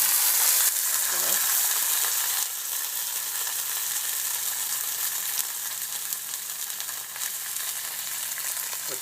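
Salsa sizzling and frying in a small hot pan on low-medium heat, a steady bright hiss that holds throughout, fairly quiet with no talk.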